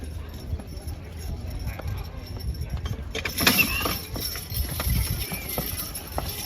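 Hooves clip-clop as a young horse works at a horse pulling contest in East Arcade, New York, with chains or harness jangling and people talking nearby, the activity growing busier midway.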